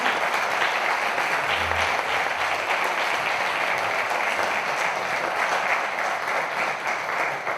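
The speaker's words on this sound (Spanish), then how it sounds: "Un aplauso muy fuerte para Jesús." Loud, sustained applause from an audience at a talk on the Ouija board, a thick, even roar of many hands clapping at close range that keeps going for several seconds.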